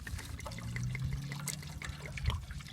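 White wine is splashed into a cooking pot during an outdoor beach cook-up of foraged clams and lobster, giving a short, soft trickling pour over a quiet background.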